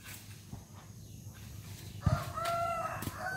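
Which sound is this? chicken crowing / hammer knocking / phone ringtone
chicken crowing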